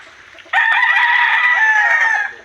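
A backyard chicken gives a single loud, drawn-out crowing call lasting about two seconds, close and clear after a brief quiet start, with no talking.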